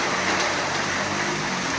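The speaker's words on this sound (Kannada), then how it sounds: "ಮಳೆ ಸೌಂಡ್ ನೋಡಿ" Heavy rain pours down in a steady, loud, dense hiss with no breaks and no voices.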